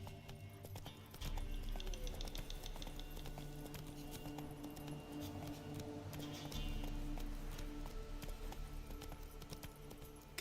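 Geralt's horse Roach gallops in The Witcher 3, a steady, fairly close run of hoofbeats that carries through the whole stretch alone, without voices.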